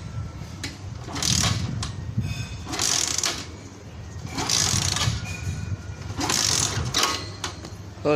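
A motorcycle's starter cranks in about four rough bursts without the engine catching, each attempt close and loud, separated by short pauses.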